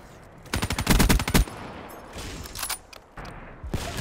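Black Ops 3 gunfire: a close rapid automatic burst of about a second, then quieter scattered shots and short bursts, no one speaking.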